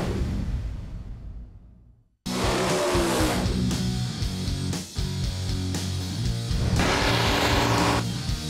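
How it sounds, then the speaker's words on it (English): Two muscle-built Chevrolet drag cars launch and roar down the strip at Houston Raceway Park, a loud continuous engine blast with tire squeal, rising abruptly after a fading whoosh and holding near and full for several seconds. "Two muscle-bound Chevys battle for a spot in the final."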